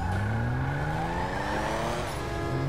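A car in the GTA Online video game drives off with a continuous engine drone. Its pitch rises steadily as it accelerates and then dips briefly, loud and close, with no talking.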